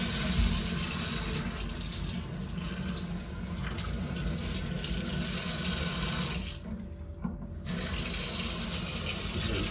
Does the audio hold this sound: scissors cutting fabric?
no